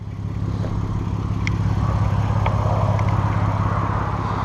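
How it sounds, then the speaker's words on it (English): A Mk5 Golf R32 engine idles with a steady low hum, and a few faint, sharp exhaust pops break through now and then. "either there's a blow or they've stripped out the cats because it pops and farts a little bit"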